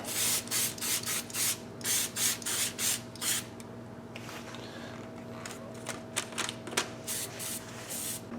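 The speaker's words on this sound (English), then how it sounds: "Little silicone spray on the new gaskets." Several short hissing bursts of silicone aerosol spray onto new carburetor gaskets in quick succession, then a pause and a few more scattered sprays, over a steady low hum.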